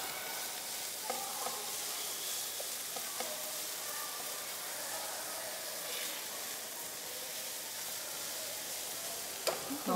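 Food is tossed and stirred in a hot frying pan, giving a steady, close sizzle with scattered scraping and clattering from the utensil.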